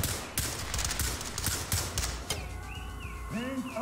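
Rapid bursts of gunfire in the tactical shooter Ready or Not during a police raid on a car dealership, sharp broadband shots through the first half with shouting voices mixed in, fading into a quieter tail.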